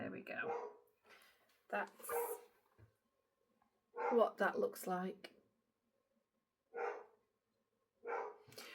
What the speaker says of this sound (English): I'm gonna have to check on that dog to see what she's barking at